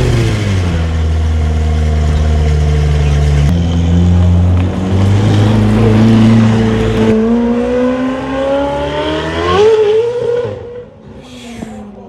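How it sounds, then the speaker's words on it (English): A McLaren Senna supercar at a Scottsdale supercars and coffee meet starts up and revs, its loud, close engine note stepping up through rising, sweeping pitches in several surges before settling back near the end. "we're gonna get ourselves a startup here quick on the McLaren Senna"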